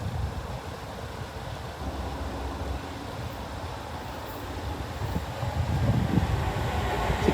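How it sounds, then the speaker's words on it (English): An untimetabled freight train passes Sincil Bank level crossing, a low steady rumble and rattle of wagons at moderate distance that swells slightly toward the end. "Here's the untimetabled freight train anyway."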